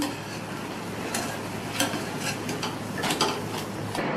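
Idli batter kunukku fritters sizzle steadily in hot oil while being stirred and turned, with a continuous close crackling hiss broken by a few sharp scraping clicks of a utensil against the pan; no voices.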